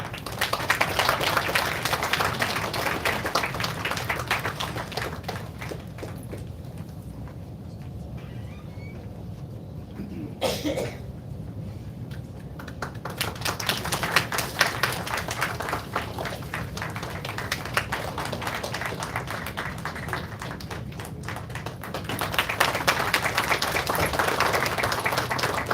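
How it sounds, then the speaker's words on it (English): Sustained applause from a crowd, steady dense clapping that dips briefly in the middle and then swells again toward the end. "Can we have a big round of applause?"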